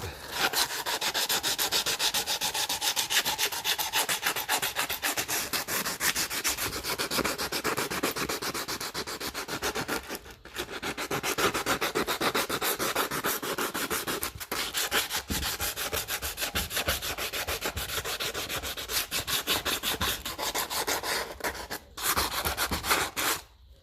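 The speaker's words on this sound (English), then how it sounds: "And just give it a little bit of a rub." A starter part from a 1955 Lucas Ferguson 20 diesel tractor is rubbed clean by hand, making a continuous, close, scratchy rubbing sound with a fast back-and-forth rhythm and only brief pauses.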